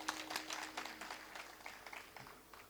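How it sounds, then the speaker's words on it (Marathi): Audience clapping for the singers at a Marathi kirtan in Pratik Nagar, Murtijapur, a spread of scattered, moderately loud hand claps that gradually thin out over a few seconds. "एकदा आमच्या गायनाचार्य मंडळींसाठी जोरदार टाळ्या वाजवा."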